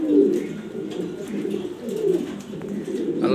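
A pet pigeon coos in a steady, low, throaty burbling run, close to the microphone and continuing without pause, with no one talking over it.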